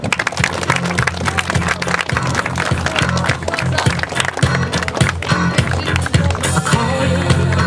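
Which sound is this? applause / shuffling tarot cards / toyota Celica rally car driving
applause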